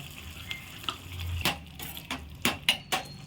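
A spoon stirs chili powder and masala through a sizzling pan while paneer curry cooks, with a series of sharp scrapes and clinks against the pan over a soft frying hiss, close by and without talk.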